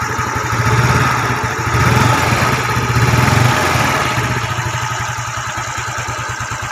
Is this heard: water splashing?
no